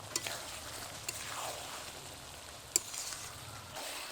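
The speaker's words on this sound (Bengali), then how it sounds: "এঁচোড়টাকে মশলার সাথে কষাচ্ছি" Green jackfruit sautéed with spices in oil, with melted fat, for a Bengali curry, giving a soft, steady sizzle close by, broken by occasional clicks and scrapes of stirring.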